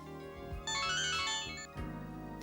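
A mobile phone ringtone plays a melodic electronic tune, loud and close, with a busier brighter middle section before shifting to a lower repeating pattern, no talking over it.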